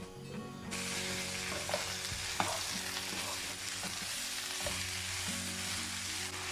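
Vegetables sizzle and crackle steadily in a little hot olive oil at close range, with occasional light clicks and stirring sounds over the constant hiss.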